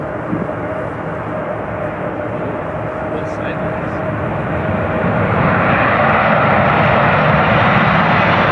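Jet airliners at Chicago O'Hare airport, a steady broad engine roar that swells louder in the second half as a plane powers up nearby, with faint talk underneath.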